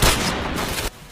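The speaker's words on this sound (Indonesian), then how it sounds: "cara nembak double Kris sama seperti sebelumnya" Dual Kriss S.V. submachine gun fire in the video game Point Blank, a single loud, dense burst of rapid shots lasting under a second before cutting off sharply.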